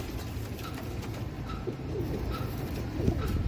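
A Dub Wala pigeon, a female, gives soft, repeated low coos close by under a steady background hum, with no talk.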